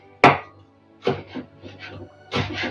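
A knife slices bell peppers into thin strips on a board for a layered salad, making one sharp close chop followed by clusters of softer, uneven cutting knocks.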